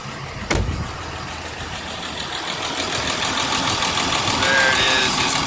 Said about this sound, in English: let's go back to the engine so you can hear how it sounds.